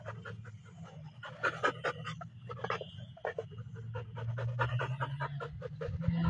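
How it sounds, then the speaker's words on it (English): A dog pants rapidly and steadily, close by, the quick rhythmic breaths continuing throughout with a low hum underneath. "I know he's a full-grown dog"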